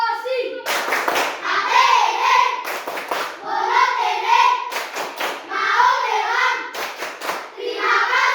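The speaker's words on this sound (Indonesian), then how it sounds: "Tepuk terima kasih." Schoolchildren in an Indonesian classroom clap together in a patterned rhythm of thanks, bursts of sharp, loud claps separated by brief pauses, with young voices chanting along between the claps.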